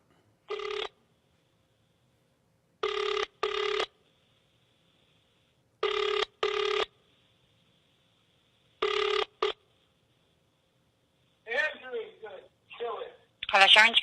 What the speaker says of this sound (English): We're going to call Sharon in South Africa.